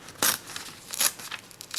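Scissors cut through a sheet of origami paper, producing two sharp crisp snips about a second apart, followed by softer rustling and paper handling, close and fairly quiet.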